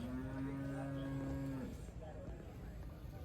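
An Andhra bull at a rural cattle market gives one long, drawn-out moo lasting over a second and a half, fairly close and clear, followed by quieter ambient market noise.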